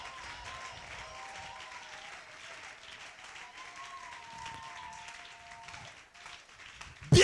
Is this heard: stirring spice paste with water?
no